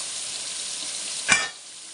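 Drumstick, okra, tomato and green chilli pieces fry for sambar, giving a loud, even hiss of sizzling, with a brief swell as they are stirred in the pan.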